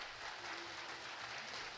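Participants at a housing-permit ceremony in Komdok clap warmly, a steady, fairly faint wash of many hands with no voices over it.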